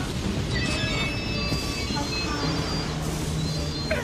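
A train rumbles steadily along the tracks with a constant low roar and faint high metallic squeals from the wheels.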